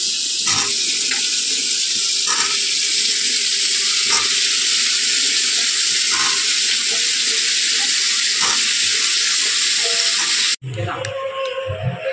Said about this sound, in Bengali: আলু আর পটলটা ভেজে নিই